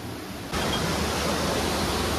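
A waterfall at Robbers Cave (Guchhu Pani) near Dehradun, heard from above the falls: a dense, steady roar of rushing water that comes in abruptly after a quieter half-second and then holds loud and even throughout, with no voices.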